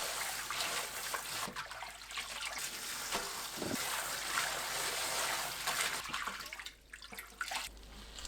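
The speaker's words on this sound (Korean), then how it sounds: "찬물에 헹굽니다." Running tap water streams steadily over blanched sea parsley (bangpung namul) in cold water, a continuous close splashing trickle with small shifts in flow and no talk.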